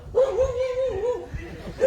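A dog gives a single drawn-out, yelping bark-whine at a live real estate auction, loud and close, with faint background murmur around it.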